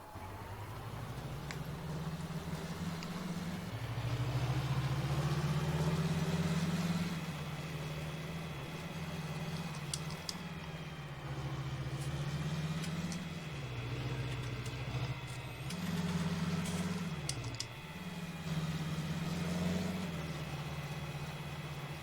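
A tractor engine in Farming Simulator 19 drones steadily with a deep, mid-level hum. Its pitch dips and rises slightly a few times over the stretch, and no one speaks.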